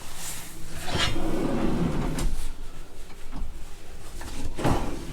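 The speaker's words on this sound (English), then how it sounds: "Cutlery drawers." A cutlery drawer slides out in a Roller Team motorhome kitchen, with a short, close rolling rattle and a couple of soft knocks and clicks.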